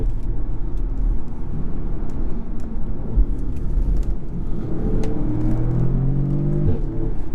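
A 2017 Audi S3 with Quattro all-wheel drive pulls away hard from a standstill, its engine droning steadily from inside the cabin and rising in pitch as it accelerates.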